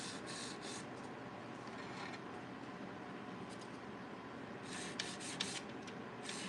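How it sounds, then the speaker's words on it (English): A nail file shaping artificial nails into a coffin shape, producing steady close rasping strokes in quick repeated bursts, with brighter scraping at the start and toward the end. "So now I'm going to go through my 5-point filing."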